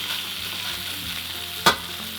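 A pork chop fries in a pan with a constant close sizzle, and a single sharp clack-and-spit near the end as the meat is flipped.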